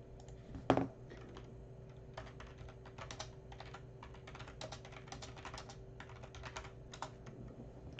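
Quiet, rapid keystrokes on a computer keyboard during a live stream, with an uneven rhythm of soft clicks after one sharper knock at the start, close but faint, with no talking.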